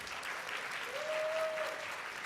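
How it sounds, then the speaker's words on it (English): A conference audience claps in a dense, steady wash of applause, with a faint tone running underneath. "Big round of applause."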